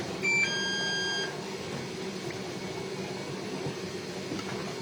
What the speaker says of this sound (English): let the machine just start beeping right now